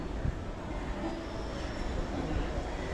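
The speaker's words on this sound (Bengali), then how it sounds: "ওই যে ট্রেন ঢুকে গেছে" The Kulik Express pulls into a station near Bolpur with a continuous, heavy rumble of moving rail cars, fairly close and steady throughout, with no clear voices.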